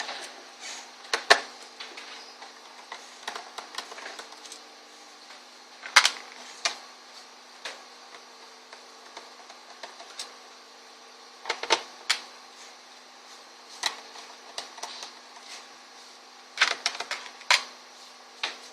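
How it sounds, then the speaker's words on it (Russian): Bolts being unscrewed from the back cover of an ASUS N53 laptop, with irregular small clicks and ticks of a screwdriver and screws, close and crisp, spread over a quiet background. "Откручиваем оставшиеся болты"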